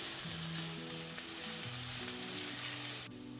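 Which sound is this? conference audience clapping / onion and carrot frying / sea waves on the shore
onion and carrot frying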